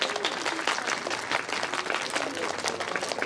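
An audience at a children's prize-giving program applauds, with steady, fairly faint clapping from a crowd running throughout, rising and falling slightly.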